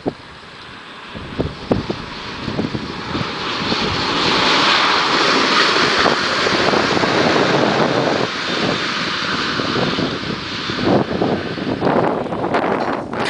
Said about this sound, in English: it's very windy this side of the crossing